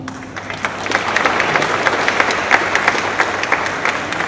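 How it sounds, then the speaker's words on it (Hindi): Audience applause fills the hall at a khadi festival event in Mumbai during a political speech, with steady, dense clapping from a large crowd and a low hum underneath. "अब तालियां बजाओ।"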